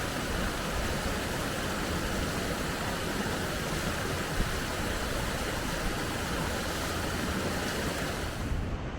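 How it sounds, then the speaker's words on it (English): Powerful rushing water of a mountain stream on a misty, rainy walk, a dense steady roar that stays loud and unbroken throughout with no voices. "Just look at the power of the water."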